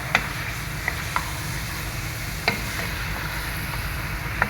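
Chunks of pumpkin land in a pan of frying chicken for a Filipino chicken-and-pumpkin dish, bringing a steady close sizzle with a few sharp clinks and scrapes of stirring.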